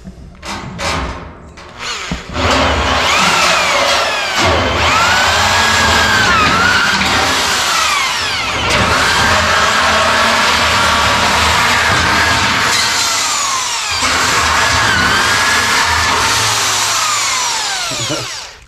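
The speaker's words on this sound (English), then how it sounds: "I'm using this with a power drill only because my other drill died" A power drill fitted for cutting thick, high-end metal roofing runs loud and steady, its motor whine and grinding cut filling the stretch with a few brief dips.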